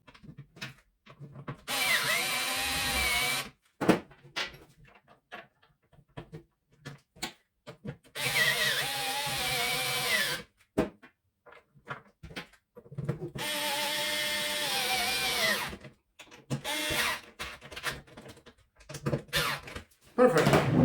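A power driver sets screws while a Livarno Home desk chair is assembled. Several short, fairly quiet whirring bursts alternate with handling clicks and knocks and pauses.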